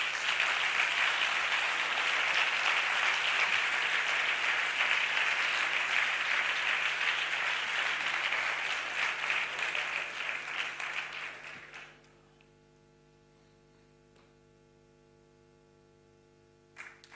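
An audience claps for a prize recipient at the CREAR 2023 awards ceremony. The sustained applause runs for about twelve seconds, then cuts off abruptly, leaving only a faint electrical hum.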